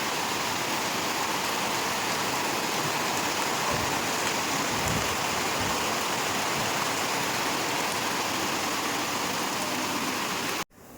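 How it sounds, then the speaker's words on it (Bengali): Steady, heavy rain falls outdoors with a dense, continuous hiss that stays loud and unbroken for about ten seconds, then cuts off abruptly near the end. "এই বৃষ্টিটাতেই ভিজতে হয়।"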